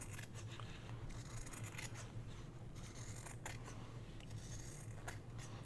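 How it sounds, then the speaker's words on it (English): Scissors snip steadily through fabric being trimmed for a handmade journal cover, a close run of crisp, repeated cuts over a low steady hum, with no talking. "I'm going to trim a little bit, and then I'll fray the rest."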